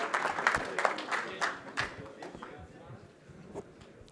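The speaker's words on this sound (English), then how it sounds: "Give a round of applause, please, everybody, for the champ, Indy Simlier and Anwar Uled Shaib" At a fight weigh-in event, a crowd gives a round of applause that starts in scattered bursts, then thins and fades to sparse claps, with some voices mixed in.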